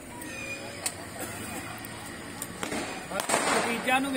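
Firecrackers pop at a wedding procession, a series of sharp cracks and bursts growing denser toward the end, with voices and crowd noise in the background.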